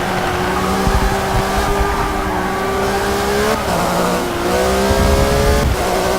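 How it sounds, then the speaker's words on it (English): BMW and Porsche race cars battle on a track, engines revving loud and close with rising and falling pitch through gear changes, a brief dip in the middle before the howl returns, with a faint tire squeal. "BMW and the Porsche seem to be pretty well matched for this track."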